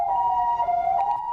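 Ambulance siren on a road in Taiwan, a loud, close wailing tone that holds steady with slight wavering pitch throughout, with no speech.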